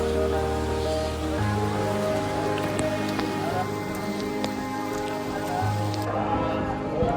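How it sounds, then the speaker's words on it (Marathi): Rain falls heavily near the Tirupati temple, a steady wash of noise under sustained hum and tonal background sounds, with faint voices mixed in. "पाऊस खूप पडतोय."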